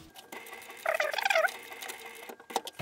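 An Adler sewing machine stitches through a stack of six fabric layers, giving a short burst of rapid, rattling needle strokes that stands out clearly over quiet surroundings, then fades back to low mechanical noise.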